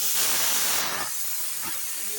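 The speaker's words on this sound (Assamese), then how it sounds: "এইপিনে কুকাৰৰ চিটি গৈ আছে" A pressure cooker whistle releases a loud hiss of escaping steam that fades after a second, then continues as a softer steady hiss.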